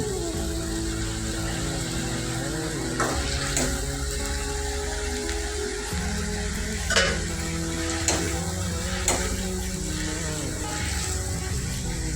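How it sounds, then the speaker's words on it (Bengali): Potatoes frying in a pan, a steady sizzle running throughout with a few sharper clatters of stirring scattered across it, close and moderately loud with no talking. "আলু ভাজি হচ্ছে"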